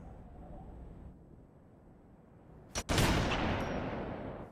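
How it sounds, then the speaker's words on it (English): A sniper rifle fires in a video game, one sharp loud crack followed by a sustained roaring tail, after a stretch of quieter ambient game noise. "Now let's take that sniper and shoot that animatronic elite"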